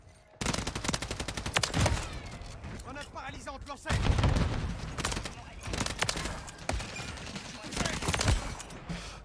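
Rapid bursts of light-weapon gunfire in a video game: several quick, loud strings of shots separated by short pauses, with a voice talking briefly between them.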